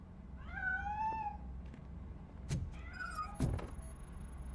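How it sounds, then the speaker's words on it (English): A cat meows in the video game RoboCop: Rogue City, with two drawn-out mews about two seconds apart and brief clicks and knocks between them. No voices are present. "That cat must be hiding inside."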